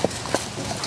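Shire horse hooves clop in a few distinct, fairly close strikes on hard ground at a walking-to-trotting rhythm, with outdoor ambience between the beats.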